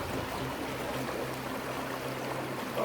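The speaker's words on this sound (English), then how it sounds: "I know we're kind of in some fast water" Fast-flowing river water rushes as a steady, broadband wash at close range, unbroken and even in level throughout.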